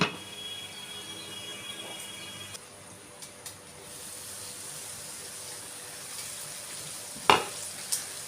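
Ivy gourd (tindora) frying in oil in a pan gives a soft, steady sizzle with a few stirring clinks and scrapes.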